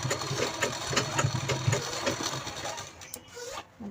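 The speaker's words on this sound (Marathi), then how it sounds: "चैनीच्या इथे आपल्याला चांगली शिलाई लावायची आहे" Sewing machine stitching along the zipper of a small fabric bag, a close mid-level mechanical whir with rapid rhythmic needle ticks that slows and stops near the end.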